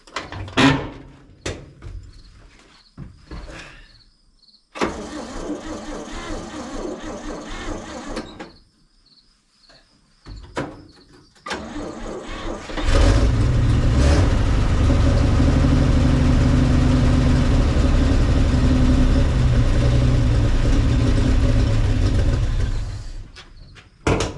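A 1961 Chevy Viking 60 truck engine turns over with clicks and mechanical clunks, then catches and settles into a loud, steady idle that runs for about ten seconds before cutting off.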